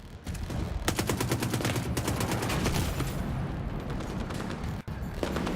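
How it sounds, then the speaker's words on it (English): Rapid gunfire from The Division 2 video game, sustained bursts of shots crackling loudly and almost continuously for several seconds, with a brief pause near the end before firing resumes. "Shooting these grenades out of the air, it's a bit tougher, I think, than it should be."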